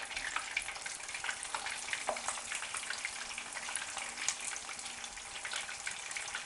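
Thin pieces of fish crackle and sizzle steadily in hot oil for fish and chips, a dense close-up frying hiss with scattered pops that continues evenly throughout, with no talking.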